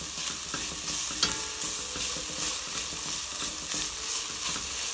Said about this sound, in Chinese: 咁我哋咧就将呢啲嘅食材咧就炒匀佢，炒香佢